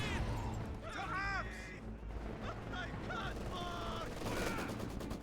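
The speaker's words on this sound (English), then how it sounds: "the MG42 is definitely doing a lot of work on this Maxim" Dense WW2 video-game battle with MG42 machine-gun fire rattling alongside other gunfire and explosions, bird-like calls and tonal effects cutting through a loud, continuous battlefield din; some voices mixed in.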